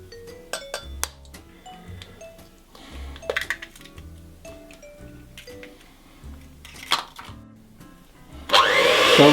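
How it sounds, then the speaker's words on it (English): Eggs being mixed into Trinidadian banana bread batter in a bowl, with scattered clinks, scrapes and soft squishy strokes, then a loud burst of rough mixing noise at the end. "So we're just mixing the eggs in."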